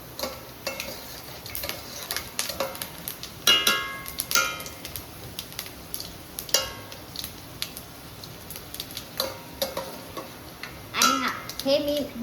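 Peanuts frying in a pan with chili and onion about to be added, heard as a soft, steady sizzle with scattered clinks and stirring scrapes, some louder bursts, and brief talk over it.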